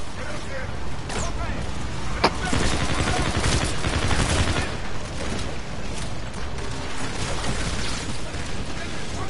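Dense bursts of rapid gunfire and explosions fill a battle in the Call of Duty Infinite Warfare campaign, loud and nearly continuous with sharp individual shots, while a player's voice talks over it.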